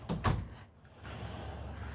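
A master bedroom door inside a 2026 Renegade Verona 40VBH Super C motorhome gives two quick close knocks or thumps at the start, then a faint steady hum of the coach interior.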